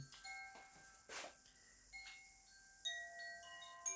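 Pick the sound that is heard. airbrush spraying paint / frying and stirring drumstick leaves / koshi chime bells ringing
koshi chime bells ringing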